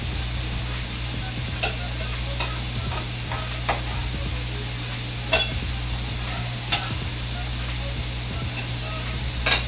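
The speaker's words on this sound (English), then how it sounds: "Those are searing up pretty good." Vegetables for gumbo sear in a hot pan, a steady low sizzle under a low hum, broken by several sharp scraping clicks from stirring.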